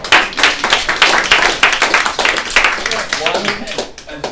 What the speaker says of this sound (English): So give these two a round of applause.